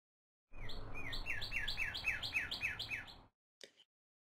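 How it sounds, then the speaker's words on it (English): A bird chirps in a quick, regular series of bright tweets over a low rumble, followed by one brief chirp after a pause. "What sound does a bird make?"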